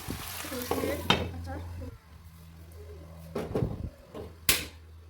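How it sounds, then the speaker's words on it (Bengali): Spices stirred in a pan while cooking a tengra fish curry with poppy seed paste make scraping, sizzling bursts, and a voice talks over parts of it. "নেড়ে চেড়ে নিচ্ছি মশলাটা।"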